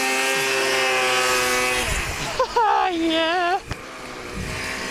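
A snowmobile engine revs hard during a wheelie attempt in a deep snowy ditch, its whine rising and sliding in pitch as the throttle opens and drops. Someone shouts briefly over it.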